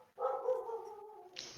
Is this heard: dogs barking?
yes